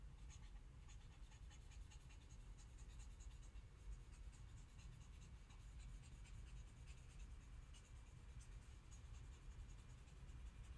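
A lecture board being erased, a faint, steady rubbing and scratching that continues without pause at low level over background hiss, with no talk.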